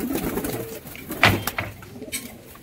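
Giribaz pigeons coo in their loft, a few soft, low, rolling calls close by over a faint background of shuffling and light knocks, with no voices.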